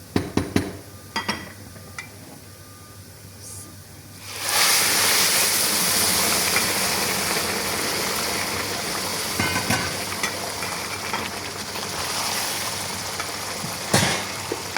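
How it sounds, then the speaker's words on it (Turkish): A steady, loud bubbling rush begins abruptly after a few quiet seconds of light clinks and continues without letup, like water boiling vigorously in a pan while cooking Ankara tava with meat. "Bu da burada kaynıyor."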